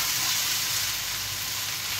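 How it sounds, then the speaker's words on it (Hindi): Okra frying in a pan with very little oil, a steady close hiss and sizzle filling the whole stretch without pause, no talking. "कम तेल वाला भिंडी बना रही है"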